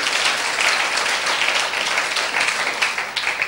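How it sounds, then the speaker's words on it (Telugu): A church congregation clapping together to glorify God, a steady dense wash of applause from many hands that continues throughout without a break. "నమ్మిన వాళ్ళు చప్పట్లు పెట్టి దేవుని మహిమపరచాలి."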